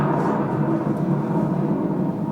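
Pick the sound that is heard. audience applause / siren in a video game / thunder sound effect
thunder sound effect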